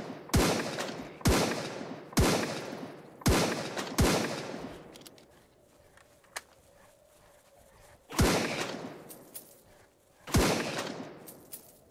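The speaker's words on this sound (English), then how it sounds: "I got a shooting gallery right now. We have to shoot so many." Gunfire in a shooting gallery in the video game Straya: loud, sharp shots in a quick series of six, each with a short decaying tail, then a pause with faint clicks before two more shots.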